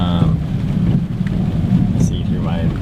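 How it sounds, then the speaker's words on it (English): Steady rain falls on a parked vehicle on a gray day, a dense continuous patter heard from inside the cab, with some talk over it. "as you can see, today we have a rain day"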